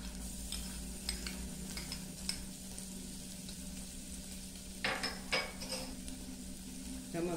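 Finely crushed garlic sizzles in a hot pan under a low, steady frying hiss, with a few sharp clinks and scrapes of a utensil stirring against the pan.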